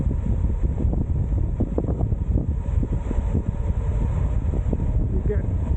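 Cold wind buffets the microphone on an exposed hilltop walk, a constant rough roar with gusty bursts, while a person talks over it.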